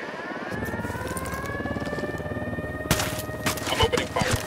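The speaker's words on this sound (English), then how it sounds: "We got a chopper coming. Chopper inbound." Helicopter approaching in the Ghost Recon Wildlands video game, a steady droning rotor and engine hum that holds throughout, with louder bursts of gunfire or impacts breaking in near the end.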